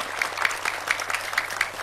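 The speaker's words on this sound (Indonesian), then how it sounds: "Kita berikan tepuk tangan sekali lagi untuk jawaban kalian." An audience, apparently children in a classroom quiz show, claps in quick rhythmic unison, a steady burst of applause close by with no talk over it.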